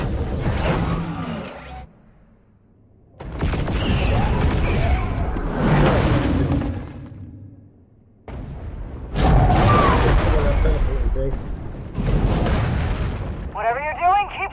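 Gunfire and blasts from the video game Tales from the Borderlands come in loud bursts separated by brief quiet gaps, mixed with whooshes and effects, while characters talk over the action.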